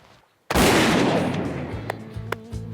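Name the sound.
gunshot while goose hunting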